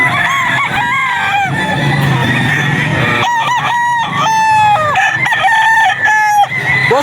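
A stag rooster crows repeatedly at the Bocaue pet market, loud and close, with harmonic calls in bursts and other fowl clucking and crowing around it in a busy market setting.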